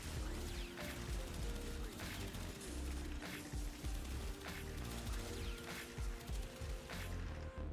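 Pyrana Prime pistol fire in Warframe, rapid repeated shotgun-like blasts over dense game noise and a sustained musical drone, loud and continuous throughout.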